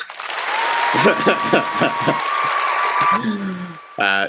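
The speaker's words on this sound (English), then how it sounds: "Jeremy, quick to applaud that one" Applause crackles for a few seconds beneath overlapping talk and other sounds on a talk show's season finale.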